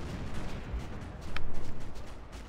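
Rapid gunfire and shell launches in the war game Battlefield Yugoslavia, a dense, rumbling barrage of overlapping shots with heavy low booms and a brief sharp crack partway through, loud and continuous with no voices.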